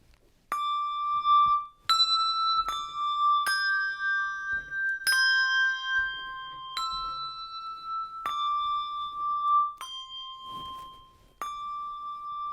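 Handbells ring out a slow introduction to a Lenten hymn, a series of clear, sustained bell tones struck one after another, each ringing on and overlapping the next, close and fairly loud with no voices.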